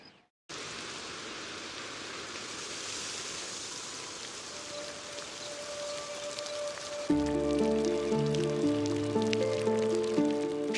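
A heavy monsoon downpour falls over lion country, a steady, dense hiss of rain that continues throughout, with music joining later.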